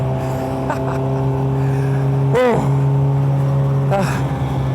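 An ex-works Ford Sierra RS500 Cosworth BTCC race car engine drones steadily at close range on track, with a brief roaring pass near the middle and a sharp rev toward the end.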